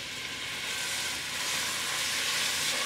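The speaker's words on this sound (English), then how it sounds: "We're going to saute our onions." Onions sizzle in olive oil inside a pressure cooker on a gas flame, a dense, even frying hiss that holds steady and close throughout with no voices.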